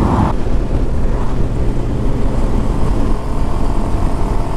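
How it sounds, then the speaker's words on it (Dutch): Loud, continuous rumble of motorcycles on a group ride-out, heavily buffeted by wind noise on the microphone, with no clear separate passes and no talk. "Zijn motorrijders, jongens."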